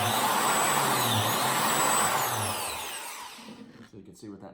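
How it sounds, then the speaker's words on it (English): A biscuit joiner plunges into a wood plate, its loud, steady high-pitched motor whine running for about three seconds before spinning down and fading, with a few faint knocks at the end. "plunge in and make the cut."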